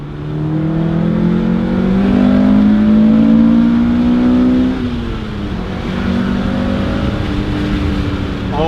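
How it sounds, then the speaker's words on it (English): A 1999 Acura Integra GSR engine revs hard and close, its pitch climbing through a gear, dropping sharply at a shift, then rising again in a smooth, loud pull. "All right, so I finally have an opportunity to rev it out."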